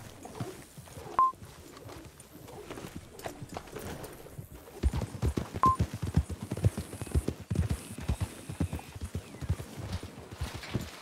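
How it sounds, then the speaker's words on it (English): Horse hooves clip-clopping in Red Dead Redemption 2, an irregular run of thudding hoofbeats that grows busier midway, with a couple of faint beeps over quiet ambience. "what the fuck is that horse doing?"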